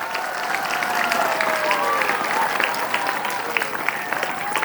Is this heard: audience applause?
yes